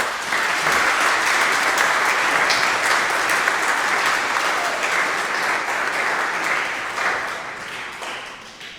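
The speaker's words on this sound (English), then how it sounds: "Let's give our scouts a round of applause for their good work." Sustained applause from an audience at a Scouts BSA fall court of honor, a thick, even roar of many hands clapping that holds steady for most of the stretch before tapering slightly at the end.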